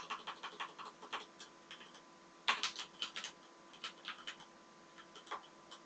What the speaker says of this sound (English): I'm having a particularly bad day with typing today.